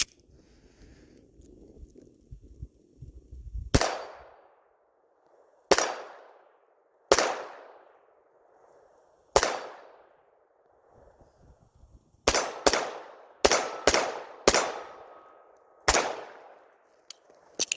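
A Walther P22 pistol fires about twelve sharp single shots, each ringing out and decaying, first spaced apart and then in a faster cluster, with no talk.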